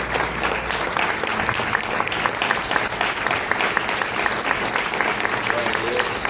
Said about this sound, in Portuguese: dá uma linda salva de palmas para o Senhor Jesus